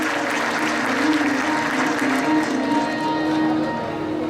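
Audience applause at a gathering, a steady wash of many hands clapping for about four seconds, with a sustained tonal hum or music line running beneath it.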